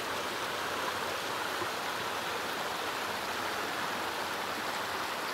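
A large spring pours straight up out of the ground on a volcanic plateau, with water roughly the size of a creek. It makes a steady, dense rushing and gurgling roar that is close and continuous, with no voices.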